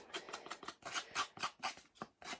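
Very sharp scissors scraping along the edges of paper cards to distress them, a quick run of close rasping strokes in a steady back-and-forth rhythm with no talking.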